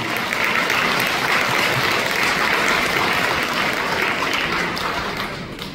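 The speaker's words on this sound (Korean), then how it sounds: "다시 한번 뜨거운 박수 부탁드립니다" Warm audience applause at a ceremony honouring a film director, a dense, even roar of many clapping hands that stays full throughout and eases slightly at the very end.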